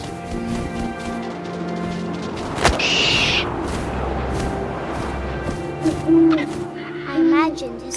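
A cartoonish owl hoot rings out once in the What Remains of Edith Finch video game, rising above steady wind ambience with faint game sounds and a few soft thumps around it.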